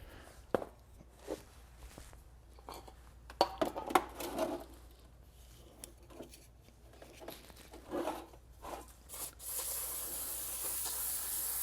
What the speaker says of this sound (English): We want to take some brake cleaner and go ahead and wash this off before we put it on the vehicle.